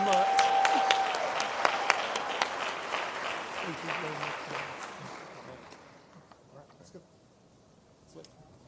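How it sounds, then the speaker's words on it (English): Audience applause at the HOPE Global Forums 2024 conference, a broad wave of clapping that starts full and fades over several seconds to scattered claps, with some voices mixed in. "Give him a round of applause."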